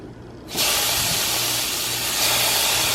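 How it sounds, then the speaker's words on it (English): Bacon sizzling in a pan, a loud, steady broadband hiss that starts suddenly and continues unbroken, with a faint low hum underneath. "I've got my bacon cooking over there."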